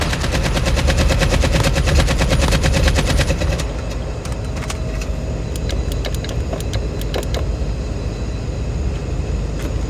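In Call of Duty Mobile battle royale, a loud, dense burst of rapid automatic gunfire rattles continuously for several seconds, then gives way to scattered sharper shots over steady in-game background rumble, with no talking.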